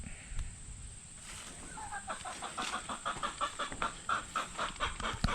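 Chickens cluck in a steady, rhythmic series of short calls, fairly close, over a low background hum.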